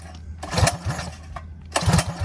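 Two quick pull-cord yanks on a Predator small engine on a minitrike, each a short sputtering burst of cranking that dies away without the motor catching.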